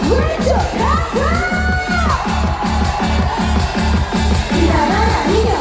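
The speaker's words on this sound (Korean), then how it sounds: "자, 그러면 우리 왼쪽 함성 한번 들어볼게요" Festival crowd cheering at an outdoor concert at the Bonghwa Songi (pine mushroom) Festival, the left-side audience shouting loudly and continuously over a steady pounding music backing track, with sustained vocal tones rising above the mix.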